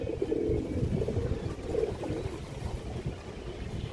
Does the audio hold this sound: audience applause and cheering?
no